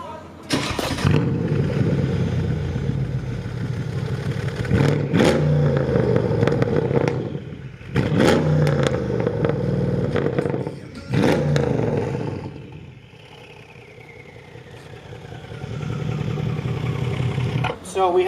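A Mercedes CLS63 AMG with long tube downpipes and a Stage 2 tune, rated 700 hp, revs several times, its loud exhaust roaring in repeated bursts that rise and fall, with people talking around it.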